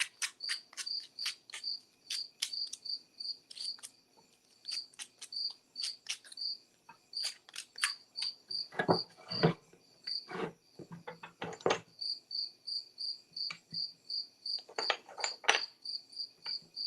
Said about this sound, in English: I'm just going to have to sit here and listen to this darn cricket over here